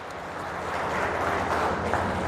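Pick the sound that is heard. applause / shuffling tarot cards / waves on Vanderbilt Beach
applause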